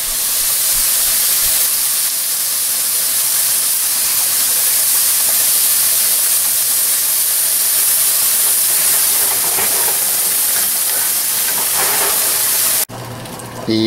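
Bean broth poured over sofrito-fried rice for arroz curtido sets off a loud, steady hiss of steam and spray lasting many seconds close up, before cutting off abruptly near the end.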